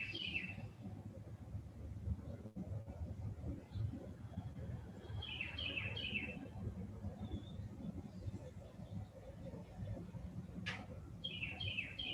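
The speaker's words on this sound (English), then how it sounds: "the sound of the birds outside" Birds chirping outside a room, short bright bursts of tweeting heard faintly and at a distance in three or four separate bouts over a quiet low hum.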